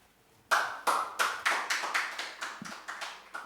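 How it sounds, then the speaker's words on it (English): Clapping at a school public-speaking event: a quiet opening, then about a dozen firm claps in an even, steady rhythm, each ringing briefly, close by and without talking. "Let's clap for her one more time."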